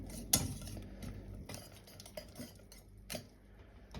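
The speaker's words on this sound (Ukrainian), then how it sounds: "Так, ретельненько перемішую, щоб масло розійшлося." A spoon stirring custard cream with butter in a pot, giving soft scraping with two sharp metallic clinks against the side, close and quiet.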